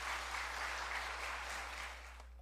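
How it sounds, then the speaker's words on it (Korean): A church congregation applauding in thanks, a steady wash of many hands clapping together at moderate distance that gradually fades out over a low hum. "저 701호의 승조원들에게 한번 감사 박수 한번 다시 한번 드려봅시다."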